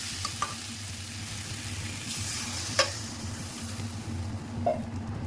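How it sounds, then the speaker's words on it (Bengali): Egg curry masala simmers in a pan after water has been added, with a steady low bubbling sizzle and a few soft clicks of a utensil, close and without talk. "এখানে জল দিয়ে দিয়েছি, ডিমের ঝোলটা আস্তে আস্তে ফুটুক।"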